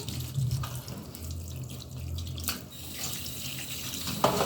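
Steady running water from a tap splashes into a bowl of chicken, a continuous close wash of liquid noise with a brief clink near the end.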